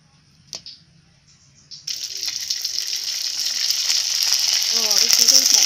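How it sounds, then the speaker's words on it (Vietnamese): Dried homemade potato crackers drop into a pan of hot oil, and after a quiet start a loud, dense sizzle bursts in and keeps building, with bubbling crackle filling the rest of the clip. "Giờ mình sẽ bắt một cái chảo lên mình đem đi chiên coi cái thành phẩm của mình nó như thế nào ha"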